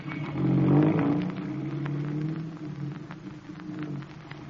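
Chauffeur-driven car pulling away, its engine rumbling and rising briefly before settling into a steady drone, close and moderately loud, with no one speaking.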